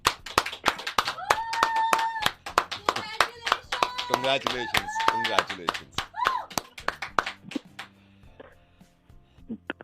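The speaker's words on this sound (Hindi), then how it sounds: "ताली बज रही है, कौन है?" People clapping at a showroom opening ribbon-cutting: close bursts of hand claps that come and go over ten seconds, mixed with several voices talking and calling out, then thinning into quieter talk.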